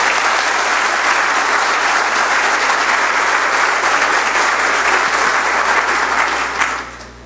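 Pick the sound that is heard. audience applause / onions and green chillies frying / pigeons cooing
audience applause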